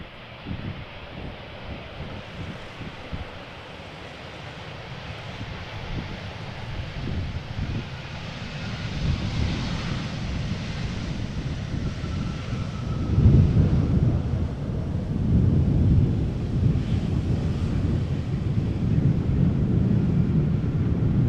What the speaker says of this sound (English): Two Embraer 190s back to back.